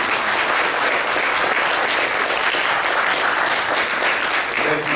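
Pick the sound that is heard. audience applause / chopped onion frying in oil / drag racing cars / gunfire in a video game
audience applause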